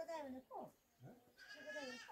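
Goats and sheep in a hill village, bleating in several wavering calls one after another, close and fairly clear, with a person talking nearby.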